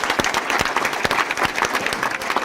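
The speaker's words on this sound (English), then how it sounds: "Let's give her a round of applause for her hard work too." Audience applause at a mayor's summer youth employment press conference, a steady burst of many hands clapping at close range throughout, with no voices over it.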